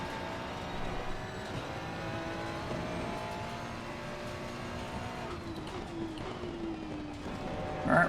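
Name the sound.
race car braking in video game Assetto Corsa Competizione, Oulton Park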